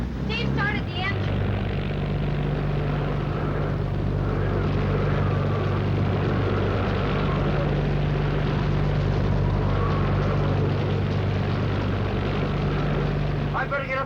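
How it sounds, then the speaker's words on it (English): Steady low engine drone of a boat just started, running continuously and fairly loud through the whole stretch, with a brief sharper noise at the start and end. "started the engine"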